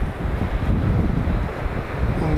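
Wind buffets the microphone at a coastal lookout above the sea with a reef offshore, mixed with a constant low roar of surf, steady and fairly loud with no voices.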